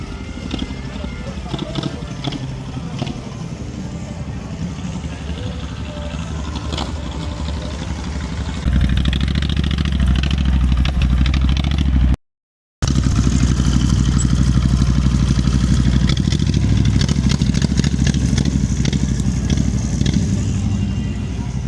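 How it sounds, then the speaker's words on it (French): A Harley-like motorcycle engine at a car and racer event, a steady loud low rumble that grows heavier partway through and runs throughout with a brief cut, beneath nearby talk and crowd noise. "il fait vraiment un bruit de Harley"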